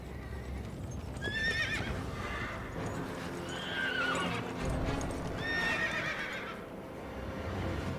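An unruly horse in the game Road to Empress neighs and whinnies repeatedly in shrill bursts. Its hooves clatter beneath the calls, all close and loud.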